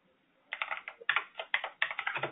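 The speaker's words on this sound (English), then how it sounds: "Also, I apologize if my keyboard is too loud." Typing on a computer keyboard: quick bursts of light, crisp key clicks in close succession, coming in uneven clusters after a short quiet start.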